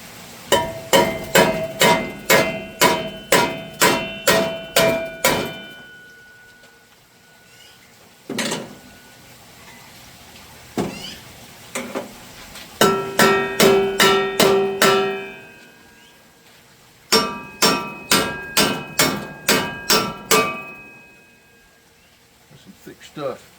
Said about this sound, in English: got a dead blow hammer and a piece of a 2x4.